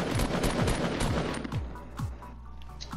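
Rapid automatic gunfire in the video game Fortnite: a dense burst of repeated shots with sharp descending shell-like chirps, loud and close, thinning toward the end.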